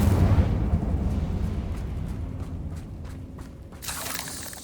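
An Incendio fire spell in the game Hogwarts Legacy bursts out as a heavy, roaring blast with a low rumble that fades into crackling, closed by a brighter hissing flare.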